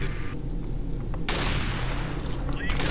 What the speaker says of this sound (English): That's me shooting.